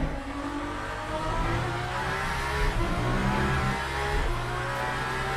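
Aston Valkyrie GTP race car engine in the Le Mans Ultimate racing game, a loud steady high-pitched drone with shifting revs that holds throughout, with no talk over it.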